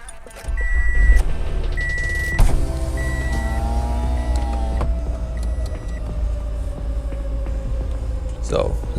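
A 2012 Toyota Camry being rebuilt after a wreck idles with a low, steady rumble, check engine and ABS lights on, joined by brief electronic beeps and a few clicks near the start.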